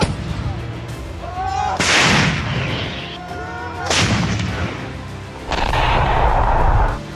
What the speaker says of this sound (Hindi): रात भर दोनों ओर से टैंक से निकले गोले आग उगलते रहे।